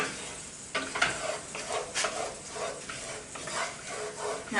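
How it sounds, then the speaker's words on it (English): Butter and flour being stirred in a pan for a white Alfredo roux, with a soft, uneven scraping and gentle sizzle that keeps going close by and has no talking over it. "And then just stir it around, keeping it from getting brown."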